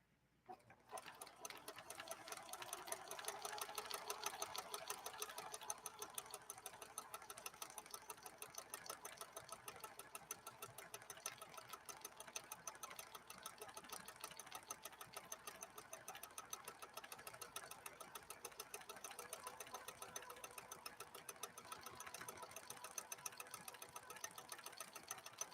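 A PFAFF 7530 sewing machine, running low on bobbin thread, stitches steadily for about twenty-five seconds. Its rapid, even mechanical chatter is faint but continuous, with no talking.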